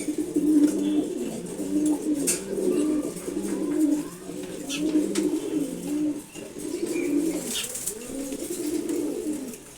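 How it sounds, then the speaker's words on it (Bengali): A male Sabji Gola pigeon coos in steady, repeated rolling phrases, close and moderately loud, continuing across the whole stretch with occasional faint rustles. "আমার খুবই পছন্দের একটা নর কবুতর"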